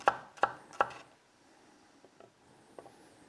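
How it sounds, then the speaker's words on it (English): Three crisp knife chops slicing shallots on a board come close together near the start, followed by a few faint light taps in a quiet kitchen. "And now for the shallots, just slice them."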